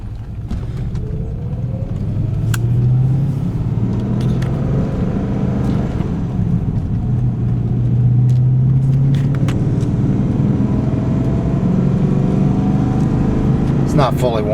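Porsche 928 GTS V8, not yet fully warmed up, heard from inside the cabin on a gentle drive as a steady low rumble with rising and falling engine tones, with someone talking over it.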